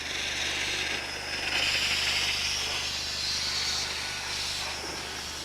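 A steady, loud hiss of escaping steam from a 120-year-old steam engine, with a low hum underneath, continuous and unbroken throughout.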